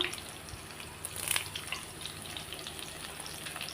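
Onions and curry leaves sizzle and crackle in a hot pan, a steady frying hiss with occasional brief pops and a soft stir, close and continuous.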